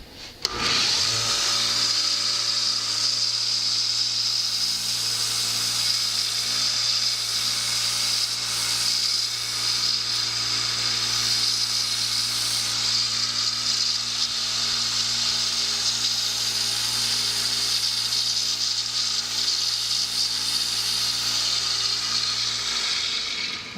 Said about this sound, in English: So we're going to go ahead and sharpen this knife.